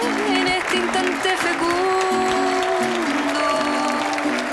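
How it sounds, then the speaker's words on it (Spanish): A studio audience on a Chilean television program claps loudly as an artist is introduced, with steady applause mixed with music playing over it. "¡Fuertes aplausos!"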